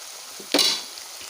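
Onions sauté in a pan with a soft steady sizzle, broken by one sharp scrape or stir that briefly flares louder before settling back.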